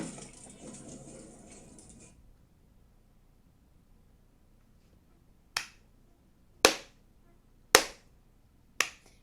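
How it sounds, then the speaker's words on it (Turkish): Four sharp, isolated hand claps ring out slowly and evenly after a stretch of steady hiss cuts off, close and crisp with silence between them. "ayakta alkışlıyorum"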